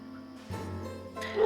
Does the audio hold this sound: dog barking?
yes